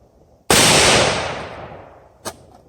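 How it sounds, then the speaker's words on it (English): A single sharp shot from a budget PSA pistol fired with mixed-brand ammunition outdoors, a loud close crack with a long decaying echo, then a faint click or small report shortly after. "I'm shooting just some mixed brass, a little bit of Federal, some Hornady mixed in, some of that Frontier"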